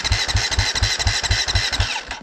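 A motorcycle engine is revved in short, even blips on a cold street, about eight quick pulses in a row before it eases off. It is close and loud, and no one speaks over it.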